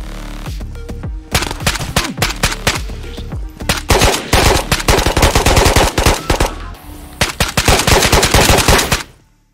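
Rapid automatic gunfire in the video game Ghosts of Tabor, loud close bursts of sharp shots in long volleys with brief pauses, ending abruptly, with no voices.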